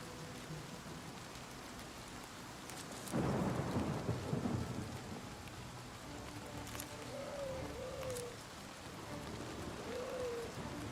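Steady rain falls with a loud thunder crack and rumble in the Oblivion Remastered video game, followed by quieter rain and a few faint bird-like calls.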